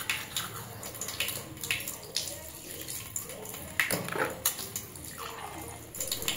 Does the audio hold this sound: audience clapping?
no